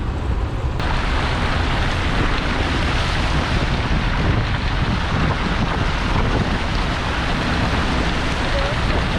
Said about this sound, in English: Yep, that's a big muddy river.